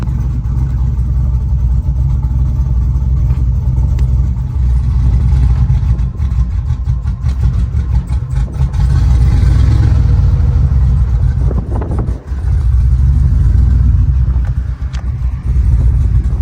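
A loud turbocharged 6-litre car engine, newly started and running imperfectly, rumbles continuously close by in a parking lot, rising and falling as it revs, with no one talking.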